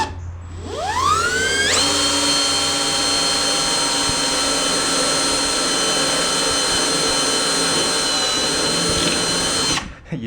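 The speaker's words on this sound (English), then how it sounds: "You drill through and a pile of rust comes up" A power drill boring holes through rusty metal on an old trailer, revving up to a loud, steady high-pitched whine that holds for about eight seconds before cutting off.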